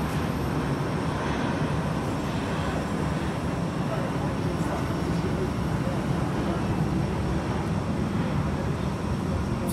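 A British Airways airliner climbing out of London Heathrow gives a steady, broad jet roar that holds evenly throughout, with a voice talking over it.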